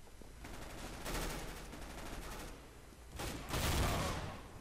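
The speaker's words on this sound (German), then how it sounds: "Shotgun." Shotgun blasts in Counter-Strike: Global Offensive, a sawed-off among them, firing in two bursts about two seconds apart, loud and near, with no talk over them.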